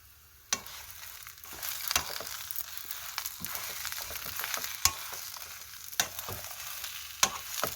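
Onions stir-frying with fish cake in a pan, a steady soft sizzle punctuated by sharp clacks of a utensil against the pan at irregular intervals. No voices.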